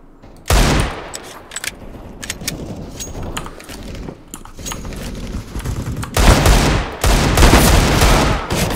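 Desert Eagle pistol gunfire in CS:GO deathmatch on Dust II, loud sharp shots and bursts of distant gunfire with clattering game effects, growing denser toward the end.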